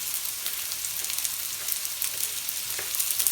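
Sliced onion fries in a pan as part of a spring onion and prawn dish, giving a steady, close crackling sizzle that continues without pause and with no voices.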